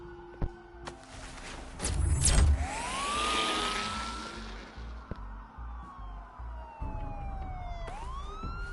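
Police car sirens wail in the Batman Telltale video game, a loud rising and falling tone that sweeps up and down over a low rumbling background, with no talk.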